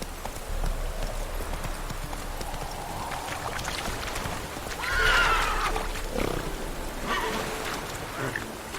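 A horse gallops in the video game Witcher 3, with steady clip-clopping hoofbeats at moderate loudness over a busy outdoor game ambience.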